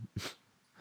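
A single quick sneeze bursts out near the mic, a sharp breathy puff after a brief intake, then quiet room air.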